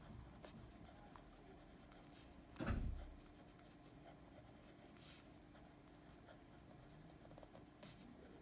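Pen writing on paper during a surgical teaching session, with soft, steady scratching throughout and one brief louder rub or knock near the start, all heard at close range.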